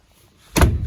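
A hard shower door on a 1994 Tiara 3600 Open cruiser closes with a single sharp knock or slam partway through, after a quiet lead-in, with a brief reverberant tail.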